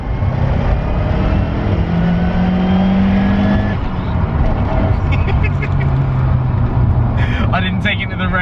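A Lancia Delta Integrale Evo 2 rally car pulls hard in second gear, its engine droning loud and steady from inside the cabin while someone talks over it.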